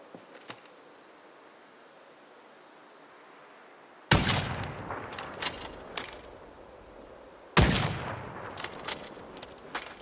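Two loud gunshots in Project Zomboid, each a sharp crack followed by a ringing, decaying tail and a few smaller clicks, spaced about three seconds apart after a stretch of quiet low ambience.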